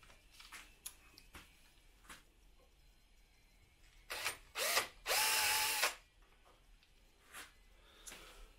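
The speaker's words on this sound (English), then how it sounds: "Put it into your drill and you start drilling." A power drill bores a pilot hole in a pen blank in a few short whirring bursts, the longest lasting about a second, separated by quiet pauses and faint clicks.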